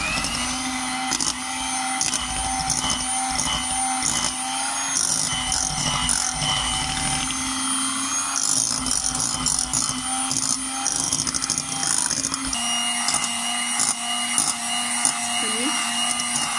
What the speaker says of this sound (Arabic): حنا غادي نخلطوا تخليطه اخرى باش ينسجم العناصر بجوجهم